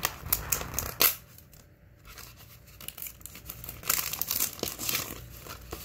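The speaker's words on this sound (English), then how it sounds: "And then, again, this plastic wrap." Plastic wrap on a toy package crinkles and tears as someone struggles to open it, with a sharp rustle near the start and another burst later, close and fairly quiet.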